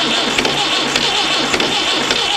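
A tractor diesel engine cranks over during a cold start with an intake manifold preheater, its starter turning in a steady, loud, rhythmic churn of repeating pulses without catching.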